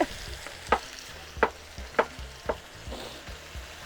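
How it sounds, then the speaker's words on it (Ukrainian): Potatoes fry in a pan outdoors, sizzling with a steady crackle, broken by several sharp scraping stirs at regular intervals, close by. "І зараз ми готуємо, щоб трошечки вона прижарилася"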